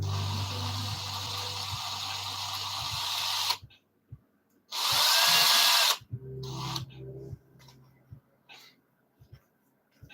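A handheld power drill whirs steadily near the mic for a few seconds, stops, then fires again in one loud burst, followed by scattered clicks and small handling noises.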